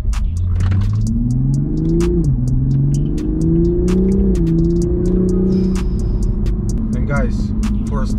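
A 2022 Toyota Supra GR with the B58 engine accelerates hard, its loud, steady engine drone climbing in pitch and dropping back at each of two quick gear shifts.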